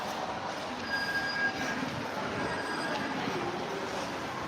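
Steady rumbling of a metro train in motion, with faint high-pitched wheel squeals rising briefly above the constant roar.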